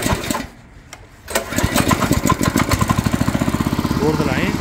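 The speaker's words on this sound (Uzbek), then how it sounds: "Yurishi, mana ishlab turishi, motor ovozlari ham juda ham tiniq akalar." A Fargo motoblock walk-behind tractor's engine catches after a short quiet pause, then runs with a loud, close, steady rapid thumping putter.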